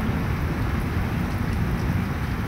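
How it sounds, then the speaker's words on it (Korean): Heavy summer downpour drenching city streets and roads, a dense, steady, loud roar of rain with constant low rumble and no voices. "많은 비가 내리는 여름 강우기."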